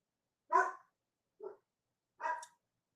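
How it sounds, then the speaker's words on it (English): Dogs barking in the background: two sharp barks and one short softer yip, spaced about a second apart, faint and distant in an otherwise silent room. "my dogs are barking in the background"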